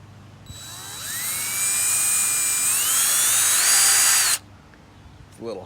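A power drill drives drywall screws into a broken shop broom handle, its loud whine rising in pitch as it spins up and runs for about four seconds, then cuts off, followed by faint handling noise.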